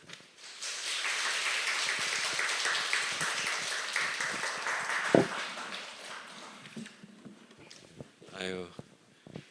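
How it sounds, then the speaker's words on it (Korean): A church congregation claps to welcome the pastor at a Sunday service, a broad wash of applause that fades toward the end, followed by brief talk. "우리 환영의 박수로 우리 목사님 맞이하겠습니다"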